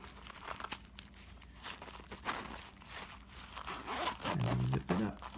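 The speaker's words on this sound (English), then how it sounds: "And zip it up." A mini trauma kit pouch is zipped shut, giving a close, scratchy rasp of the zipper along with crinkling and rubbing of its contents; a short low hum is heard near the end.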